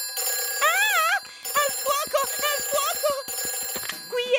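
A warbling electronic emergency telephone ring in a Peppa Pig cartoon trills in repeated bursts with short gaps, with a voice speaking over part of it.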